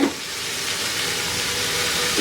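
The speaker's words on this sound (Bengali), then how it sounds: "এগুলোকে দিয়েও আমি 2-3 মিনিট একটু ভেজে নিব" Broccoli frying on high heat in a pan gives off a loud, even steam-like sizzle that holds steady throughout, close up with no talking.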